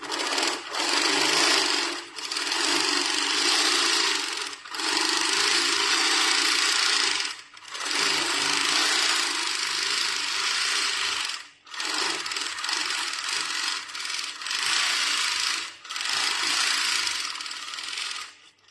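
A Moxie 15-inch longarm quilting machine stitches a quilt border in long steady runs of fast mechanical whirring, stopping briefly between sections and starting again, loud and close with no talk.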